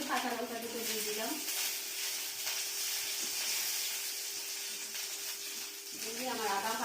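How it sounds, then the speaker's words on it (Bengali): Ginger and green chillies fry in a pan for potato dum, a steady close sizzling hiss with faint stirring, while someone speaks over the cooking at the start and end. "আদাটা ভালো করে আমি ভেজে নেব।"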